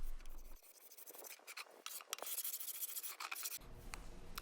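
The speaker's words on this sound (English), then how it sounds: "I'm using my carbide scraper to scrape that old finish off the top." Carbide scraper dragged over a wooden desktop to strip old finish, rasping scratchy strokes up close in a few uneven passes, with background noise cutting in and out.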